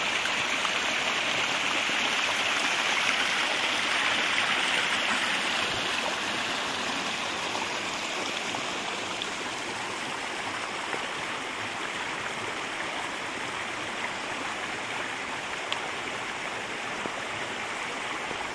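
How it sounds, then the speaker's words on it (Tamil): A stream at Yercaud rushes steadily with dense, continuous broadband water noise, close and loud, with no pauses or voices over the whole stretch. "அப்படியே கீழே போய் பார்க்கலாம், தண்ணி நிறையா போகுது."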